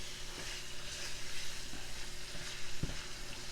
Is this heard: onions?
yes